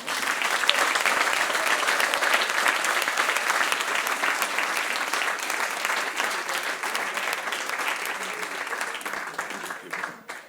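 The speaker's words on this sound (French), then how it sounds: "Est-ce que nous pouvons applaudir tous les parents?" Steady, dense applause from a church audience at a Christian Christmas show, sustained for about ten seconds before tapering off at the end.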